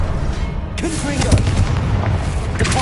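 A Confringo blasting curse in Hogwarts Legacy bursts sharply about a second in, and a loud, continuous rumble of spell effects and battle noise surrounds it.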